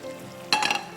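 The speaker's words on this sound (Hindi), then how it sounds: "उसके लिए हम एक पैन ले लेंगे, उसमें हम मक्खन डालेंगे थोड़ा सा" A small knob of butter goes into a pan for a dessert topping and starts to sizzle and crackle about halfway through, a sudden bright burst of frying sound that stays close and steady with no talking.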